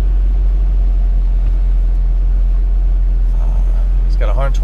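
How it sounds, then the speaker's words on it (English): A 2000 Chevrolet Corvette C5 with a stock factory engine idles with a steady low rumble throughout, loud and close, and a voice briefly starts at the end. "Cranks right up, runs like it's supposed to"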